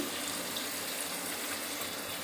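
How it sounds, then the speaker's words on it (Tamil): Water poured into a mixer jar that held ground tomato, a steady, continuous close-up gush with no break for its whole length. "அப்படியே அந்த தக்காளி அரைச்ச ஜார்லேயே இன்னும் கொஞ்சம் தண்ணி ஊற்றி"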